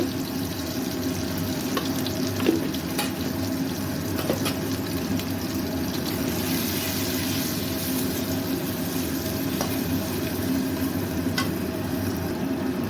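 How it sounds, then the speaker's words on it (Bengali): Ground spices such as cumin, turmeric and chili powder with a splash of water fry in a pan for tengra fish curry, giving a steady, even sizzle with occasional stirring clicks and no talking. "মশলাটা প্রায় ভাজা হয়ে গেছে।"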